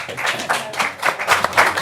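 Scattered clapping from an audience at a Haverford Township commissioners meeting, a brief burst of claps with uneven rhythm, moderately loud in a meeting room.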